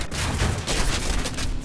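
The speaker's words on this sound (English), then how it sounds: "Let's see if we can snipe him with a 50 cal." A .50 caliber machine gun on a Pe-2 bomber in War Thunder fires a rapid, continuous burst of loud, close shots that blur into a dense rattling roar for the whole stretch.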